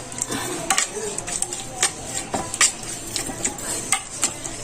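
Spoon stirring a raw anchovy kinilaw na dilis mixture in a bowl, with close, repeated scraping and light clinks in an irregular rhythm over a faint background hum.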